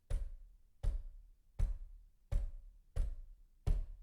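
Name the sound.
slow, constant knocking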